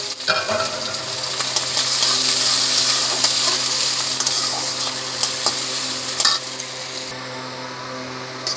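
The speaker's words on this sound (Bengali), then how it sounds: "পেঁয়াজটা ভাজা ভাজা হয়ে গেছে" Chopped onion fries in a pan with whole cumin for an egg omelette curry. A loud, steady sizzle runs throughout, with scraping stirs and light clinks of the utensil against the pan.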